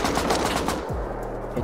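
Rapid automatic AK rifle fire in the survival game Rust, a dense burst of loud shots for most of the moment, then a low droning hum as the firing stops.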